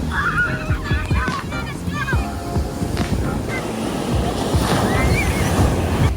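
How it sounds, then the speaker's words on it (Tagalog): Strong surf crashes and rushes continuously nearby at San Juan, La Union, mixed with gusty wind buffeting the microphone and faint distant voices. "Lakas ng alon dito."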